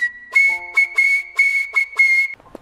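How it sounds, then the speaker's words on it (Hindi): A loud whistle is blown by a park watchman at closing time in the evening. It gives a string of sharp, piercing blasts in an uneven rhythm, heard close and with nothing else sounding. "मगरिब की अजान के साथ ही बाबा जी ने वो धुआंधार सीटी बजाई।"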